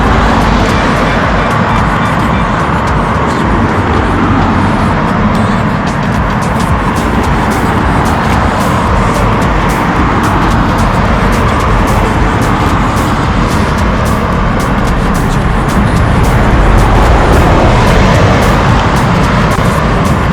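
A bus passes along a London street near the London Eye at night, a steady loud roar of engine and road traffic that swells slightly toward the end, with no talk over it.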